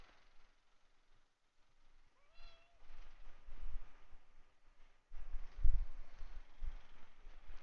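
A house cat gives a single short meow, soft and indoors, followed by quieter rustling and low thumps.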